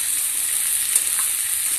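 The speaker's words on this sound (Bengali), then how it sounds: "দিয়ে ভালোভাবে ভাজছি" Green chillies fry in a pan over a clay stove in a village kitchen, giving a steady, close, even sizzle that runs alone for the whole moment.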